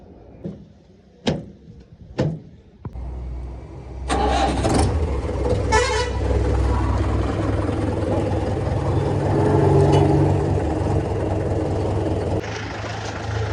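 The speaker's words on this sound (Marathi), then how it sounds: "आत्ता आपण चालले मका आणायला, ट्रॅक्टर घेऊन आपला" A few sharp clunks, then a tractor engine starts and runs with a steady low rumble as the tractor drives along.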